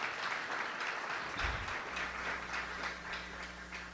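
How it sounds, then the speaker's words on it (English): An audience applauds at a grant awards ceremony, a steady wash of many hands clapping that holds for the whole stretch at moderate loudness with no voices over it. "I want to give a round of applause."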